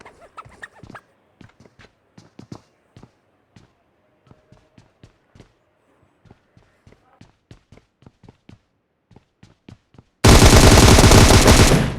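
Gunfire in the PUBG video game, a long string of separate sharp shots at an uneven pace, some in quick pairs, followed by a sudden loud, dense burst at the end.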